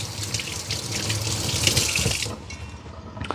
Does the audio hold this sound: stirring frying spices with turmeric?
no